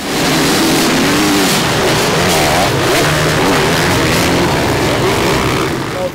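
A pack of motocross motorcycles revs hard at the start of a race on a new dirt track, a dense, loud, continuous engine howl with rising pitches overlapping throughout.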